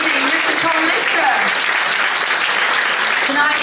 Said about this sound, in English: please keep the applause going for the amazing Mr. Tom Lister.